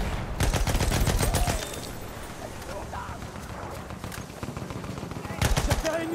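Rapid machine gun bursts in the World War I trench shooter Battlefield 1, loud and close at the start, easing off midway, then returning in a final burst, with battlefield noise throughout and players talking over it.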